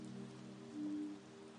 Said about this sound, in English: until the rain slowed to a drizzle